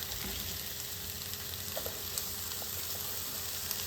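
Tomatoes and onions sizzle steadily in a skillet over lowered heat, a constant soft frying hiss with faint crackles throughout.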